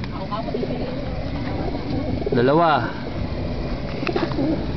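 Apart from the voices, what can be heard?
racing pigeons cooing as they are released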